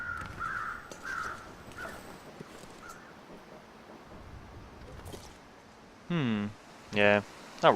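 Crows in the survival game The Long Dark call with a couple of faint caws early on, then three short, loud, close caws near the end, all over a windy backdrop.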